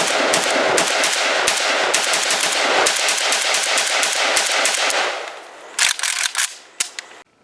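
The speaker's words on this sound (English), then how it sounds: "here are the very first shots we ever put through this one last summer" Rapid close gunfire from an AK rifle, a dense stream of loud sharp shots for about five seconds, then a few separate shots trailing off.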